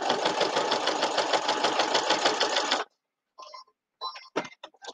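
A sewing machine stitches a quilt-as-you-go potholder with a fast, even, close mechanical chatter that runs for nearly three seconds, then stops, leaving a few small handling clicks.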